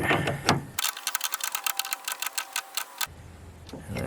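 A fast, steady run of ratchet clicks lasts about two seconds while a nut is tightened on a side-terminal car battery bolt against its soft lead terminal. The clicks are close and distinct, with quiet handling noise before and after.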